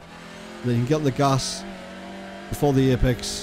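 A TCR touring car in iRacing accelerating out of a corner, a steady engine drone under someone talking throughout.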